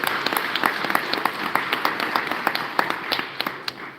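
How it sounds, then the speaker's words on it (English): Steady applause from a room full of people at a school honor roll ceremony, brisk overlapping claps continuing throughout without pause. "If you give those folks also a round of applause."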